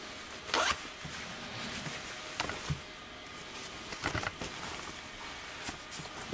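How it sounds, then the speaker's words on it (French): Soft, flexible zippers on the pockets of long seven-pocket outdoor hiking and cycling shorts, several quick close zips opened and closed in short bursts, with light fabric handling between them. "Des fermetures éclair plutôt souples, c'est vraiment soft."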